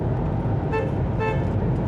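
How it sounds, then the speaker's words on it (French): A car horn gives two short honks inside a road tunnel, each a brief tonal toot, over a steady loud rumble of the moving car and engine. "dans les tunnels, on klaxonne toujours un petit coup"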